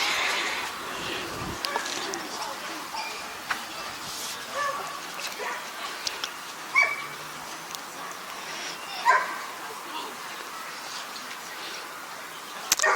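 Puppies in the baby puppy class at a kennel club championship show give scattered yips, barks and whimpers, some close and some farther off, over a steady murmur of crowd chatter in a busy show hall.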